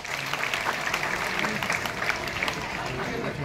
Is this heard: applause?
yes